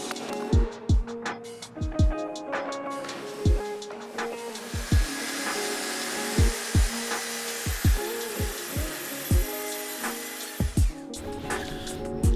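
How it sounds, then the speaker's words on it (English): A power saw cuts through a full plywood sheet. A sustained whine from the blade is broken by repeated sharp knocks and thumps as the wood is handled nearby. "All right, I gotta cut up this plywood because I can't fit a full sheet on my CNC machine."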